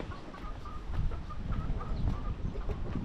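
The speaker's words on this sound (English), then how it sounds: "Some chickens and roosters." Chickens and roosters cluck in a quiet morning outdoors in a mountain setting, short scattered clucks rising over a low rumbling background, moderately distant.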